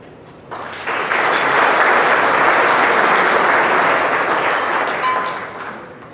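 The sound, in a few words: applause at gala dinner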